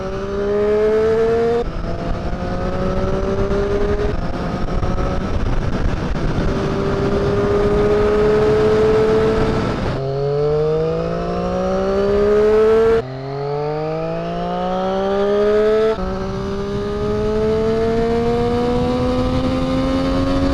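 A Triumph Street Triple motorcycle engine revs hard up to about 12,000 rpm, its whine climbing steadily through several gears with abrupt drops at each shift, loud and close throughout with no talking.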